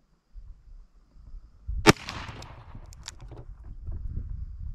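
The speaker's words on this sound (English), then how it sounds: "now the Winchester 130 grain, 38 special, out of the" A Ruger SP101 revolver fires a single Winchester 130 grain .38 Special round at an outdoor range: one sharp, loud, close bang, then a low rumbling tail and quiet background.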